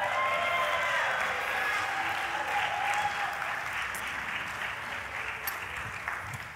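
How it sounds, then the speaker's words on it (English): A church congregation applauds warmly for a guest speaker, sustained clapping from many people that gradually thins toward the end, with a few faint whistle-like tones early on. "I think that's the most applause I've ever gotten in my life."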